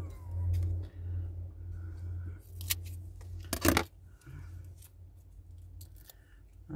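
Scissors snip through a craft foam square with several crisp cuts, one sharper burst in the middle, close and fairly quiet over a low steady hum.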